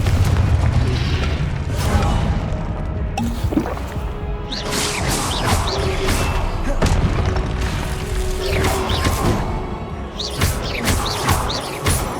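Confringo fire spell from Hogwarts Legacy, a booming blast layered over continuous game music and ambience, with rumbling bursts recurring through the scene.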